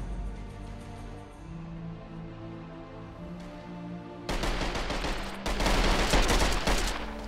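A modded assault rifle in Skyrim fires rapid automatic bursts, loud and close, breaking in after several seconds of a steady droning game tone and then continuing in sustained volleys.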